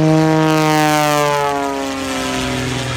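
An Extra aerobatic propeller airplane banks hard through an aggressive turn at an air show in Goshen, Indiana, its engine a loud, steady harmonic drone with a slowly shifting pitch that eases slightly toward the end.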